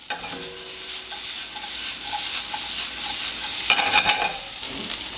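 Peppers and broccoli stir-fry in a hot pan, a bright continuous sizzle with stirring and tossing noises that swell into a louder burst of scraping and hissing near the end, with no voices.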